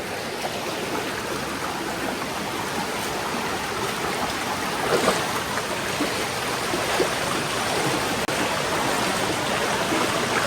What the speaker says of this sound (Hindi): दोस्तों प्रेशर देख रहे हो पानी कितना है।